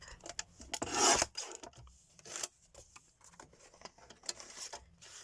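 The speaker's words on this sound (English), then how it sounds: "So bring in my little guillotine. Line it up." A small paper guillotine trims card for a handmade monochrome birthday card, giving a short rasping slide of the blade, then quieter soft clicks and paper rustles.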